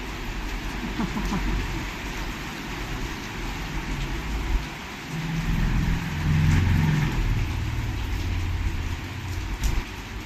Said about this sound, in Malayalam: ഓ മഴ ഇങ്ങോട്ട് വരുന്നു